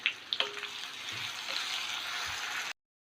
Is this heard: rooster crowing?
no